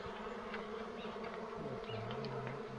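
Honeybees buzz close by during hive work in a field in the Dominican Republic, a steady droning hum that rises and shifts in pitch, quiet and continuous with no talking.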